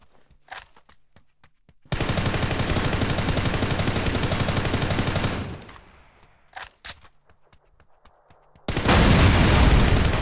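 Automatic burst gunfire in the mobile game PUBG New State: a dense, rapid stream of shots runs for several seconds, then scattered single cracks, then another loud sustained burst at the end.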